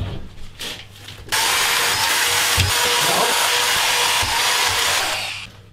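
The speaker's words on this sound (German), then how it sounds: "dann gehen die Schrauben auch rein wie Butter und der Trockenbauschrauber macht einen echt guten Job" A Metabo SE-4000 drywall screwdriver drives screws through drywall into fastened metal profiles: a brief quiet start, then one long, loud, steady whirring run up close that fades out at the end.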